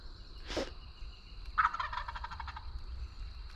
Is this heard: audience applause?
no